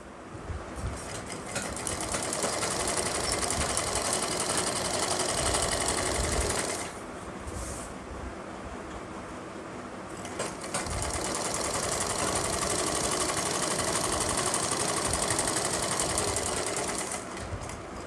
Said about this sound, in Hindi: इस जगह से आपको सिलाई शुरुआत करनी है इस तरह से